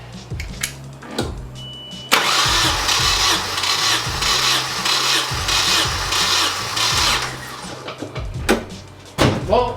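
Car engine on a jumped battery cranking in several short rhythmic bursts, then catching briefly with a rougher, louder run before more cranking, heard up close.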